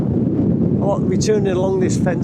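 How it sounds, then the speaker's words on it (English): Strong wind buffets the microphone with a low, constant rumble on a mountain in Snowdonia's Carneddau while someone speaks over it. "it's too windy"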